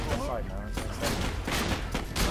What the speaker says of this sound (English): It is a pretty epic shotgun, to be honest with you.